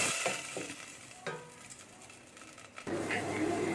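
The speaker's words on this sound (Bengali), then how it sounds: "তো এদিকে পেঁয়াজ রসুনগুলো ভাজা হয়ে গিয়েছে, আমি কিছুটা পানি দিয়ে দিয়েছি মশলাটা কষানোর জন্য।" Fried onion, garlic and spice paste sizzles in a pan after a splash of water is added, a soft crackling hiss with a few stirring scrapes, rising louder and steadier near the end.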